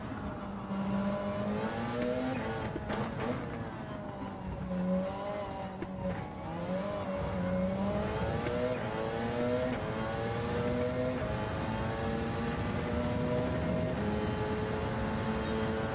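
A race car engine in a racing video game during a four-hour race in Spain, revving up and down through the gears nonstop, loud and close, with repeated rising pitch sweeps as it accelerates, and no voices.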